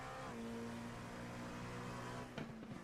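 Onboard Graham Stephen's race car, the engine holds a strong, steady drone. It shifts pitch near the end, alongside a brief sharp transient.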